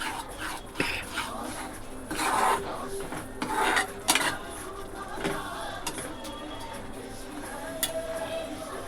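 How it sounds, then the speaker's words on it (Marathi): Spinach puree stir-fried with red chili powder in a pan for butter palak paneer, heard as close clattering scrapes and knocks of a spoon against the pan in irregular bursts, with no one talking. "अजून थोडंसं लाल तिखट यामध्ये मिक्स करून व्यवस्थित परतवून घेते"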